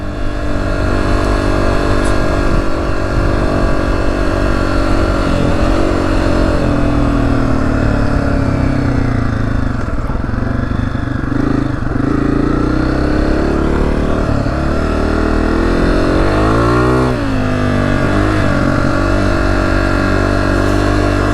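A Honda CRF250F dirt bike rides through the Arizona desert. The single-cylinder engine drones loudly and steadily, rising and falling as the rider shifts and revs over about twenty seconds, close up with wind buffeting and no talking.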